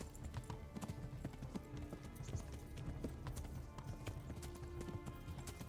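Horse hooves clip-clop steadily in Kingdom Come: Deliverance as a mount trots along a dirt road toward a windmill, a close, continuous rhythmic clatter with no voices.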